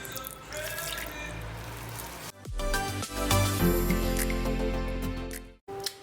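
Water pours from a tap into a bowl of msemen dough being mixed for Ramadan bread, a continuous splashing stream close by with a brief break midway.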